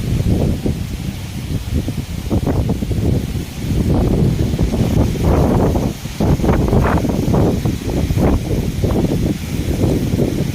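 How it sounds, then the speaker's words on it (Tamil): Strong wind after heavy rain in a village buffets the microphone in continuous loud gusts, with a roaring rumble that surges and eases over several seconds; no voices. "எந்த அளவுக்கு காத்தடிக்குது பாருங்க"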